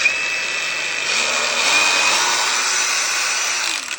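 An Ubay angle grinder runs free at high speed, giving a loud, steady, close-up whine that swells slightly midway and holds until a brief dip at the end.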